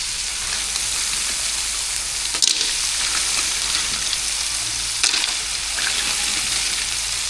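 Steady loud sizzling of mussels frying in a hot pan, a continuous hiss with a few brief crackling bursts near 2.5 and 5 seconds, close up and with no talking.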